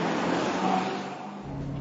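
A Maserati GranTurismo engine roars steadily with deep exhaust rumble, the pitch shifting as it pulls hard, loud and close.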